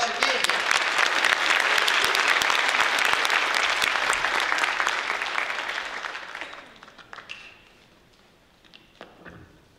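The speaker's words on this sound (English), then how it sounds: "So give yourselves a round of applause for being here." An audience at a teachers' keynote event applauds loudly and steadily for about six seconds, then the clapping thins out and fades to scattered claps and faint room noise.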